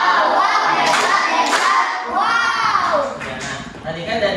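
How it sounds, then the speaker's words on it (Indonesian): Applause from a classroom or workshop audience, busy clapping mixed with loud overlapping voices and children's chatter, close and dense throughout. "Kita beri tepuk tangan hebat dulu untuk kita semua."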